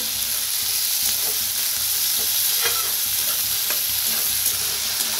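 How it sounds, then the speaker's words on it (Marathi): Tomatoes and onions frying in a pan sizzle loudly and steadily up close, with occasional spatula scrapes and stirring clicks over the constant hiss, no voices. "त्याच्यात टाकूया टमाटो, 2 कापून घेतली होती बघा आपण, ते भी छान असं भाजून घेऊया"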